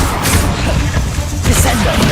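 A Bombarda spell explodes in the Hogwarts Legacy video game, a loud, dense blast that crashes and rumbles continuously, with bursts of debris and whooshing layered on top.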